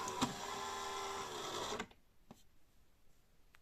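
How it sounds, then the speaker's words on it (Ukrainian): A Saeco coffee machine's brewing unit motors back to its start position with a steady mechanical whir lasting under two seconds, then stops abruptly, leaving quiet room tone with a couple of faint clicks. "Повертаємо наш заварічний модуль на стартову позицію"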